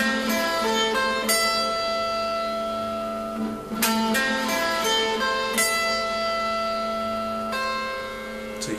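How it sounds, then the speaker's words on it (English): A clean electric guitar sweeps through an arpeggio with open strings left ringing and nothing muted, so the notes blur into a sustained wash with a few sharper re-attacks; played alone, fairly close. "So you can hear all those open strings going off."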